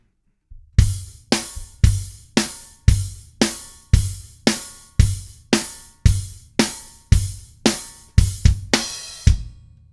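A drum groove from the chorus of a song, with kick and a slightly open hi-hat, the hats sizzling on every pulse in a steady, driving rhythm.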